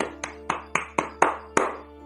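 Six sharp, separate hand claps ring out faintly at an uneven rhythm over a low steady hum, brief applause for footballer Alvaro Fernandez.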